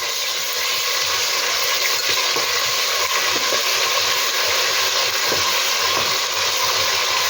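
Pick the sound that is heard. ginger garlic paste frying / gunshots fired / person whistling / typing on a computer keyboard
ginger garlic paste frying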